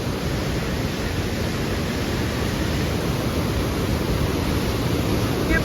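Swollen river in flood after very heavy rain in Nandanagar, its water rushing as a loud, steady, broadband roar with no breaks, close by and unchanging throughout.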